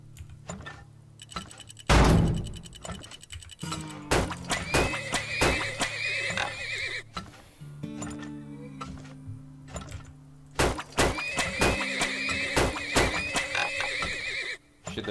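Horses in a video game neigh and whinny in repeated loud, shrill bursts, mixed with clip-clop hooves and ticking game sounds, with no talk over them.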